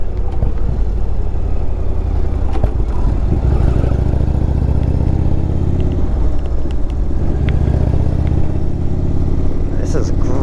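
An Indian Chief motorcycle engine rumbles steadily while riding, a loud continuous low drone with wind noise throughout and a few brief clicks and knocks.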